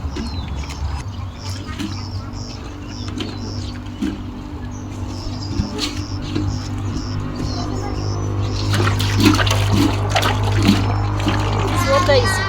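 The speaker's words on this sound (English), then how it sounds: "let's clean the utensils" Utensils being washed and rinsed in very hot water in a Kenyan village on a rainy morning, with light splashing and clinking that grows busier toward the end, under soft talk and bird chirps.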